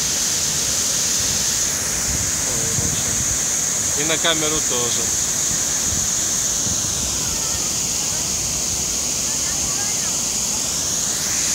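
Waterfall at the Catalonia National Art Museum, a loud, constant rushing spray heard from very near, with a person briefly speaking over it partway through.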